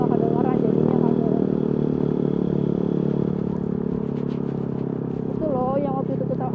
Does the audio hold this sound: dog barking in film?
no